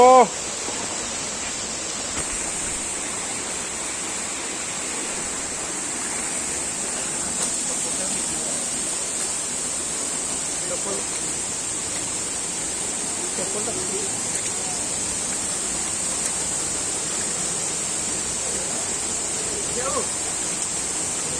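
A steady, even rush of falling water from a waterfall at Bhim Mandali in the hills continues unbroken throughout, with no pauses, heard from close range.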